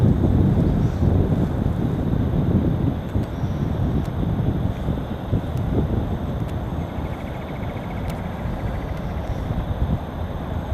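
Strong west wind blowing over open water, a steady broadband rush and buffeting that fills the whole stretch without letup, loud and close, with no voices.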